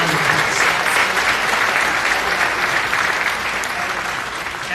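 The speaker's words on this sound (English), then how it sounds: "Please give them a round of applause." Sustained applause from a large crowd at a Detroit Economic Club speech, steady and dense clapping throughout, tapering slightly at the end.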